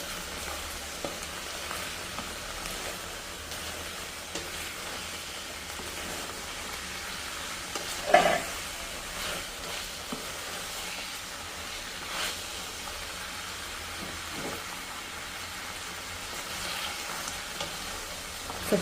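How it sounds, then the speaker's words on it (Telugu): Pieces of food frying in a pan at home, a steady soft sizzle and crackle. A single sharper clink or stir stands out partway through, and a few fainter knocks follow. "ముక్కలు అయితే వేగిపోయాయి"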